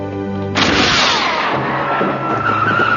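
Car tires skid and screech loudly in a television scene, a sudden harsh burst after a tonal opening, then sustained noisy scraping with a high squeal emerging near the end.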